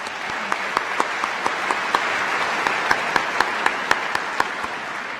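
A large audience at a university convocation gives sustained applause, a dense steady wash of clapping with sharper individual claps standing out throughout.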